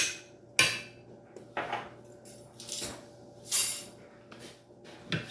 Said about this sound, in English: So we'll stir that in.